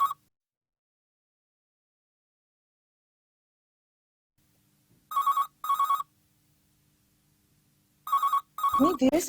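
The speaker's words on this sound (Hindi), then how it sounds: "इतनी देर से फोन बज रहा है, क्या सब सो रहे हैं?" A telephone rings in a drama scene, with a brief ring at the start, then two pairs of bursts after silence, the last overlapped by a voice speaking.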